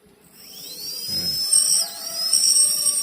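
A small brushless fan motor rated at 11,000 RPM spins up with a high, thin whine that rises and wavers, steady over a soft hum, with no voices.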